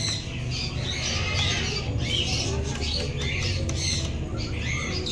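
Chickens squawk repeatedly at a busy animal and bird exhibition, with steady crowd murmur and voices underneath.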